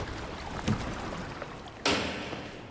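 A boat sinks into water in a dramatic scene from the series Ripley, heard as close, low gurgling and sloshing with a splashy surge near the end, no voices.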